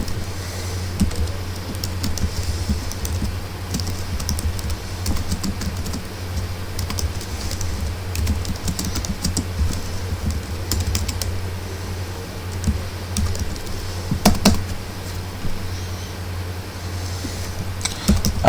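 Steady computer keyboard typing while Arduino code is written, quick irregular key clicks over a low constant hum, close and fairly quiet.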